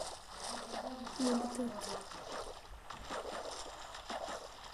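A Minecraft character runs across water, making soft game splashes and sloshing. Voices talk over the top.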